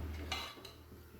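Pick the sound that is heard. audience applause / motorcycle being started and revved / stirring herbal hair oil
stirring herbal hair oil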